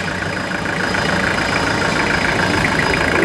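A Toyota Hilux SR pickup engine idles, heard from underneath the vehicle: a steady, close, even rumble with a continuous mechanical hum and no talking.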